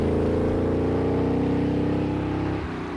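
Close, loud Maserati engine drone holding steady with a rising tone above 3,000 revs, then easing off near the end; no voices.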